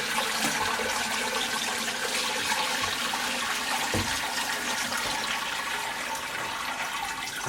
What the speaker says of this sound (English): And carefully and slowly pour the broth.